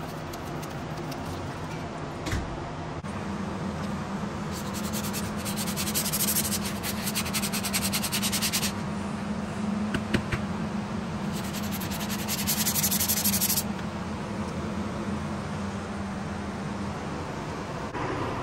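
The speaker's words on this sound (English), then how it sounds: "Alright, I got it all sanded down with 80 grit." Body of a Shelby Cobra replica sanded by hand with an 80 grit sanding block, a continuous rough scraping that comes in long bursts and pauses, close up.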